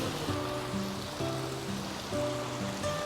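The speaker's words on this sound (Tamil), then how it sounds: "ஸோ இந்த இடத்துல வந்து தண்ணி வருது." Water pours steadily from a roadside pipe set up for drinking and washing near Ooty, a continuous rushing splash with a musical tone playing over it throughout.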